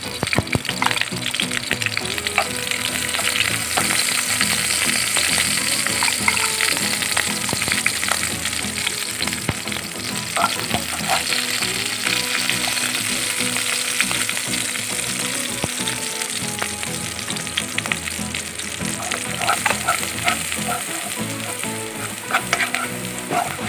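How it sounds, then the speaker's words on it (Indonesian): Spices for a meatball soup broth fry in hot oil in a pan, giving a loud, steady, close sizzle that carries on without a break, with light stirring noises over it. "Kita goreng bumbu sopnya, bumbu kuah baksonya."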